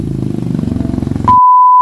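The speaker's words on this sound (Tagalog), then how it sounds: "Yung dating halos wala na talagang buhay na motor, tumatakbo na ulit ngayon." A restored Honda Wave Alpha motorcycle engine runs with a steady, pulsing putter for about a second, then cuts off abruptly and a sustained electronic beep takes over.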